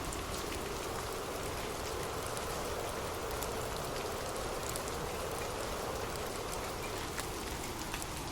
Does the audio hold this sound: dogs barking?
no